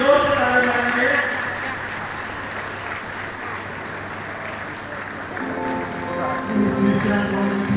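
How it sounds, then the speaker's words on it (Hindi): Crowd at a church community hall opening claps together, a steady, moderately loud patter of applause lasting several seconds with voices and background sounds mixed in. "सभी कोई जोर से ताली मारेंगे।"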